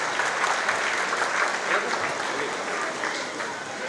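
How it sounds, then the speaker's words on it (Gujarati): A crowd at a prize distribution and youth talent felicitation event gives loud, sustained applause for the children. The clapping is thick and continuous, and voices come through faintly underneath. "ચાલો વધાવો જોરદાર તાળીના ગડગડાટ સાથે તમામ બાળકોને"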